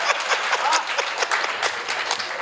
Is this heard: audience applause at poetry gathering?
yes